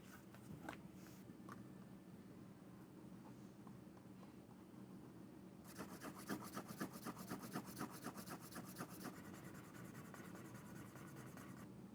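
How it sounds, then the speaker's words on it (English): A leather edge on a pencil pouch is burnished by hand: quiet rubbing at first, then a run of fast, rhythmic friction strokes that continues steadily and stays faint. "Alright, so that edge is nicely burnished."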